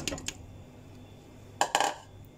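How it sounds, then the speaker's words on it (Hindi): Pieces of mutton going into a pressure cooker for yakhni, heard as a few brief metallic clinks and knocks, one near the start and a quick cluster later, with quiet kitchen room tone in between. "यखनी के लिए पहले मटन को कुकर में डाल देंगे।"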